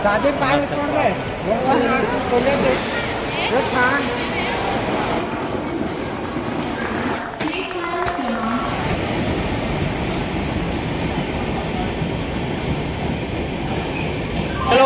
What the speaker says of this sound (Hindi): फाइनली ट्रेन लग गई